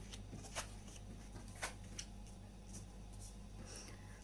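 Tarot cards being shuffled and drawn, a few quiet crisp flicks and brushes over a low steady background hum.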